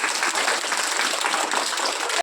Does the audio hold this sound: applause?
yes